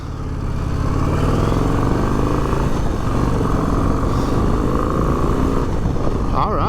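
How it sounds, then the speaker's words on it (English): A 2025 Harley-Davidson Low Rider ST motorcycle rumbles through its 2-in-1 stock exhaust, a loud, continuous low engine drone heard close up while riding, with wind noise over it. "a nice different rumble back there with that 2-in-1 stock exhaust"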